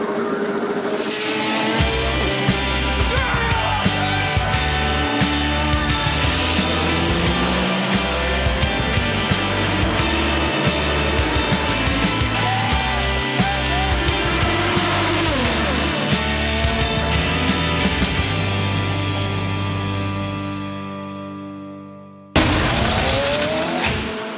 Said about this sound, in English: We're about to drop the green flag on the final race on the 2009 Firestone Indy Lights Championship schedule.